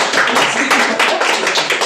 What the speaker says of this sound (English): Let's give me a round of applause